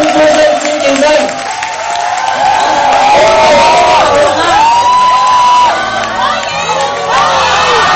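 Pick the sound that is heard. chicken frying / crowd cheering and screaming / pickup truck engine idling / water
crowd cheering and screaming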